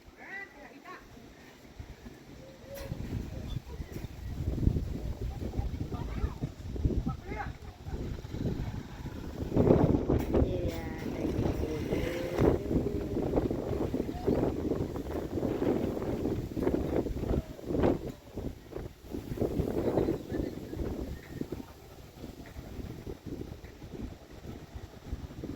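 Strong wind gusts outdoors at a home, buffeting the microphone in a continuous, roaring rush that rises and falls over about 25 seconds, with faint voices in the background.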